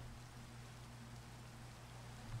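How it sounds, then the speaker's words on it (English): Steady hiss of heavy rain during a thunderstorm in Minecraft, a dense, even wash of noise with a low hum beneath, no thunder crack and no talking. "Alright, so we have a thunderstorm."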